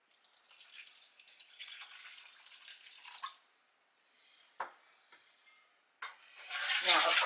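Water poured into a pot of blueberries, heard as intermittent splashing and trickling with sharp drips and clinks near the end, close and fairly quiet, with no talking.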